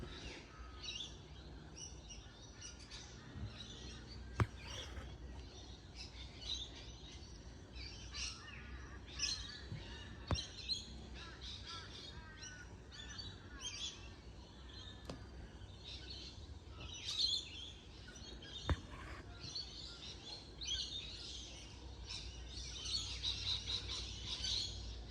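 Wild birds calling outdoors, with crows and the odd cockatoo around: scattered, fairly faint chirps and calls repeat throughout over a low, steady background hum, with no talking.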